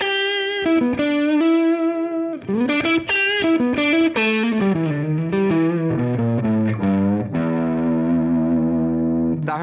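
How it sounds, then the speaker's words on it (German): Ibanez RGT electric guitar with a crunchy, mildly distorted tone, playing a steady sequence of picked notes and held chords, loud and close with no talking. "Gehen wir mal über zu ein bisschen was Crunchigem."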